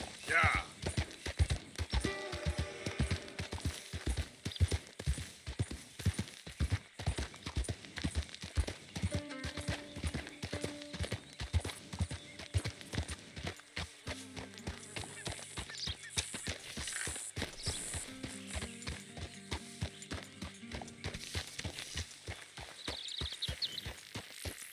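Horse hooves clip-clopping steadily in Red Dead Redemption 2 as the horse is ridden, a continuous rhythmic beat throughout with game music tones and someone speaking over it.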